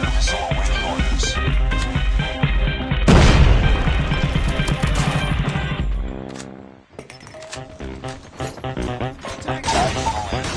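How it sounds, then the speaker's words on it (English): A Predator missile strike explosion in Call of Duty Mobile. A heavy crashing boom erupts over busy game music and effects, then a rumbling tail trails off before the action sounds resume. "Friendly Predator missile inbound."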